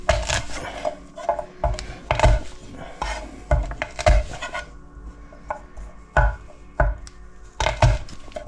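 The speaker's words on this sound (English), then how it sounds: "And I should chop the garlic as well." Garlic chopped with a knife on a wooden board for a Vietnamese beef stew, a series of sharp, close, uneven knife thuds coming in quick bursts, with light kitchen clatter in between.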